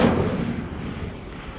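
A fire spell cast in the Hogwarts Legacy video game, a loud booming whoosh of flame that hits at once and rumbles low, then decays over a second and a half.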